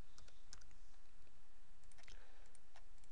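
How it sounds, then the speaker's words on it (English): Quiet, light clicking of a computer keyboard as depth values are typed in, with irregular keystrokes in short bursts and no talking. "I'm just typing in the depth of the layers as I go."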